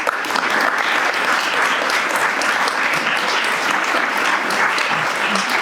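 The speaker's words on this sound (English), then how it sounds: "Would you like to give them a round of applause for their..." An audience at a York and North Yorkshire mayoral hustings gives the four panellists a sustained round of applause, with dense, even clapping throughout.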